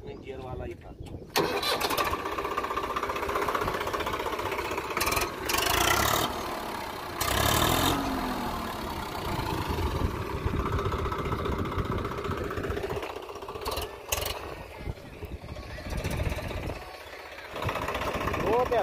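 A Swaraj 744 FE tractor engine runs with a steady low diesel rumble throughout, with people talking over it and occasional louder bursts.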